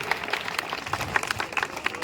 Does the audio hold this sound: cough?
no